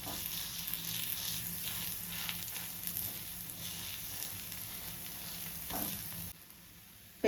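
Pesarattu with onion pieces and green chilli cooking on a pan over a low flame, a soft continuous sizzle with faint crackles, fairly quiet and steady, ending in a brief drop and a sharp click.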